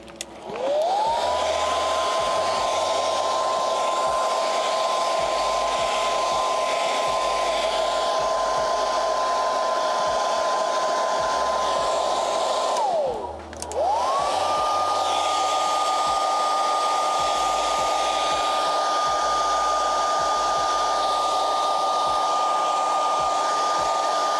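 A blow dryer dries a freshly built puppet in a shop, whirring loudly and steadily close by, briefly cutting off and then starting up again for a second long run, with no talking over it.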